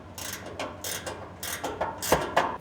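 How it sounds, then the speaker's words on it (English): A 17mm ring spanner ratchets and clicks as it tensions a front bracket bolt on a water tank mount, with a short series of close, scraping metallic clicks in an uneven rhythm. "with our 17mm ring spanner, it's going to tension our front bracket bolt"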